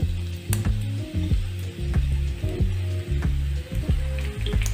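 Chopped onion sizzles in hot olive oil with steady crackling, punctuated by repeated clacks of a utensil stirring the pan.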